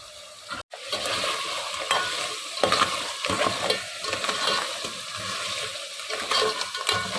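Spices and aromatics sizzle and fry in a pan for an Indian crab curry, a steady close crackling hiss with stirring scrapes, broken by a brief gap near the start.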